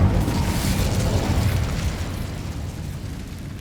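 A Bombarda explosion spell bursts in the Hogwarts Legacy video game, a loud booming blast with low rumble that decays over several seconds, with no talking.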